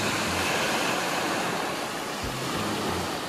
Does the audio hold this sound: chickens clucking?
no